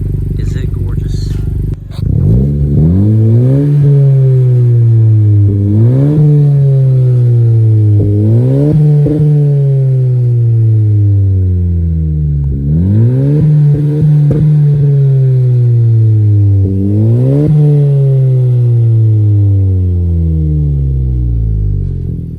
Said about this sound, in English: this is the MAP or MAPerformance exhaust